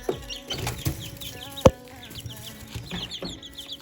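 Chicks in their enclosure, soft repeated peeps and clucks close by with a few scratchy knocks and one sharp thump, over a quiet background.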